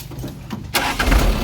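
A 1996 engkel truck's old engine cranks and catches at once, then settles into a loud, rough rumble close by, after a brief quiet stretch of shuffling at the start.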